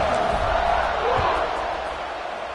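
Virtual stadium crowd in College Football 26, South Carolina hosting top-ranked Tennessee, roars in a steady broad wash before a kickoff, easing slightly toward the end beneath a play-by-play voice.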